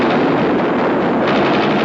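Machine guns fire from sheriff's deputies storming in during a horror film, a dense, loud, continuous roar of overlapping gunfire with no pauses.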